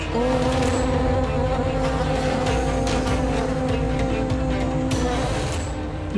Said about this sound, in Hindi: इन मधुमक्खियों का उन पर चढ़ने के स्थान पर ये तो जैसे उनका चरण स्पर्श कर लौट रही हैं।